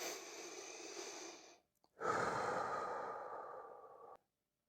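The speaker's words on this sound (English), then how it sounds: "take a really deep breath" A slow, deep breath taken close to the microphone, a long airy inhale followed after a brief pause by an even longer exhale, soft and isolated in an otherwise quiet space.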